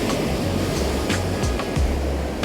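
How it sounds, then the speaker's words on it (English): Heavy surf washing against a rocky Northumberland shore near Craster, a steady loud roar of broken water with repeated surges and low rumbles, no voices. "some of these waves are coming up quite a lot"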